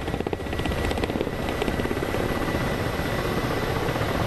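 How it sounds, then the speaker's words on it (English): Helicopter rotor and engine noise from a DCS World flight-sim dogfight between an Mi-24 Hind and a Ka-50 Kamov, with an A-10 Warthog also involved. It is a loud, steady, dense thrum with rhythmic rotor pulsing that continues throughout. "Helicopter fight, dogfight, best dogfight."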